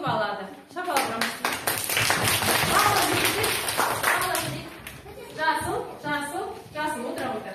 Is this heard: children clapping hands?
yes